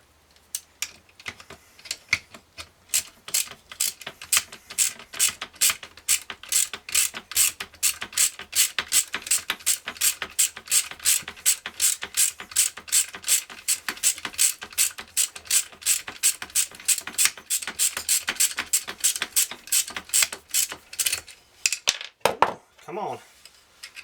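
A T10 Torx driver turns a screw into a CZ 712 utility shotgun with a long run of quick, crisp ratcheting clicks, close and steady, ending in a brief scrape.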